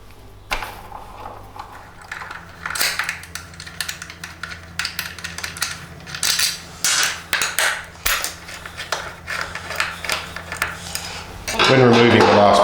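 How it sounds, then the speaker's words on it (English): A 6mm Allen key works the two bolts on the pillion peg of a 2021 Yamaha MT-09, making a run of close, bright metallic clinks and taps in an uneven rhythm, ending in a louder scraping rattle. "Take your 6mm Allen key and remove the two bolts holding on the pillion peg"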